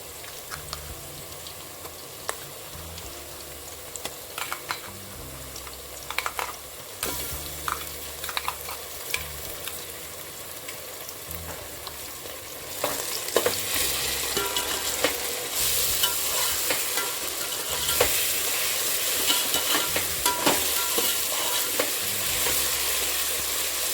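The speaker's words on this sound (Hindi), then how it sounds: "अभी हम इसे और भूनेंगे। ये लहसुन और अदरक, प्याज जो एक डाला है उसका कच्चापन ख़त्म हो जाए।" Onions frying with ginger-garlic paste in a pan for a home-style chicken curry, a steady sizzle broken by clanking stirs, growing louder and hissier about halfway through, with no talking.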